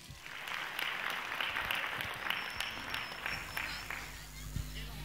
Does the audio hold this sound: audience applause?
yes